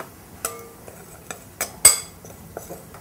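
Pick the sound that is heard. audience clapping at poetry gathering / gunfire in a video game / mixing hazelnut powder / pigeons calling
mixing hazelnut powder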